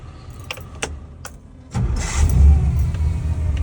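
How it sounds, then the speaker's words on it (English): A carbureted off-road vehicle engine, warm for a hot start, cranks after a few light metallic clicks and catches quickly, settling into a close, rumbling idle. "It usually starts up just fine with this carb."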